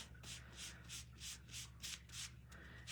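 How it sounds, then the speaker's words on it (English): Gray stamp pads are rubbed onto painted lighthouse parts in repeated soft scrubbing strokes, about nine rhythmic swishes close to the microphone, quiet and without talk. "I'm gonna hold them down and just kind of rub them on there"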